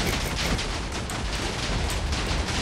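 Minecraft TNT detonating in quick succession: a steady, loud barrage of overlapping blasts, crackling and booming close by for a few seconds without a break.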